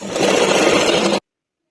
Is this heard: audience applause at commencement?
no